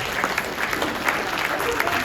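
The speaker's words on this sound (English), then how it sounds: "Can we please give a round of applause" Applause from an audience at a real estate panel session, a steady wash of claps running the whole time at moderate level, with talk mixed in.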